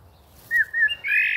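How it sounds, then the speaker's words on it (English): Blackbirds calling near a hunting blind: a few short, bright chirps and whistled calls, fairly close and clear over quiet background, with the last call rising and holding loudest. "Okay, we've got blackbirds."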